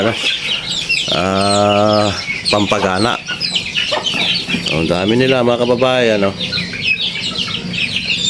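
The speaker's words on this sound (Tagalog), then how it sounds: "Ito ang alaga nating manok dito sa ating bahay." Native chickens cluck close by while feeding in a steady busy stream, with a few louder drawn-out calls rising above, while a person talks over them.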